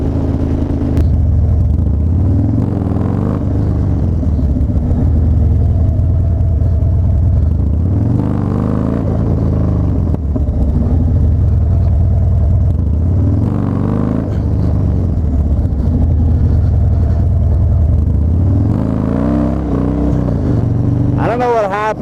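A motorcycle engine drones loud and close throughout a wheelie attempt as the rear wheel spins, its low rumble swelling and easing in repeated surges, with someone talking over it.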